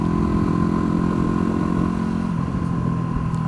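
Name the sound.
Supermoto dirt bike engine while riding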